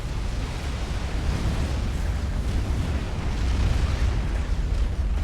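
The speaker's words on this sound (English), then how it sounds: "Oh, look at that beautiful shot of the Tsar firing." Heavy experimental artillery firing from the Tsar in Supreme Commander: Forged Alliance, a deep, continuous rumbling roar of explosions that swells toward the end, with no talk.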